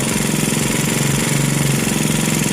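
A 49cc GoPed scooter engine idles steadily and loudly up close during idle adjustment. Its buzzing drone is even and unbroken throughout.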